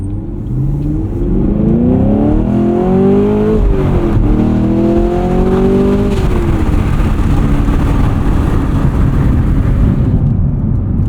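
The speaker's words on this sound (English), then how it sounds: "Driving around a V8 muscle car is all about the noise" A 2023 Camaro SS 1LE V8 muscle car accelerating hard from inside, its loud engine note climbing through the revs, dipping at a gearshift, then climbing again before settling into a steady drone.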